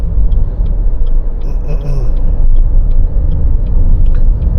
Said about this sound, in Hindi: तो हम इसको थोड़ा सा एक्सेलरेट करते हैं and then we change the lane.